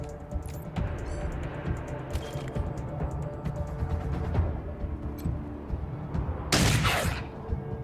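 Gunfire from a turn-based combat in Wasteland 3, with a dense stream of shots and impacts over a busy game soundtrack, ending in a loud bright burst near the end.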